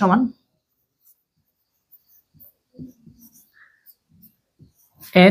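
A marker writing on a board during a maths lesson, faint scattered squeaks and taps between stretches of quiet, with brief speech at the start and end.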